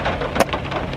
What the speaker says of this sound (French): Je sais même pas si vous allez m'entendre d'ailleurs avec les torrents de pluie là qui tombent